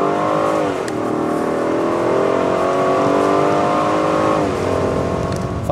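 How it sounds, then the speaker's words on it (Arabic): A Rolls-Royce accelerating fast on a snowy public road in Slovakia, its engine note climbing steadily through gear changes with a loud, close, sustained roar and no talk. "فورا السيارة انطلاق سريع 160"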